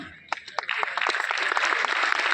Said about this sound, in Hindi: इसके लिए तो मैं ताली बजाना चाहता हूं।